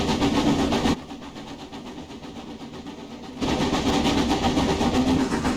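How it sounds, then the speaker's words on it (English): Steam locomotive on the Brockenbahn route from Wernigerode to the Brocken in Train Simulator Classic, with a steady mechanical rumble and rhythmic chuffing that drops quieter midway, then swells back loud. "The chuff sound is not half bad either."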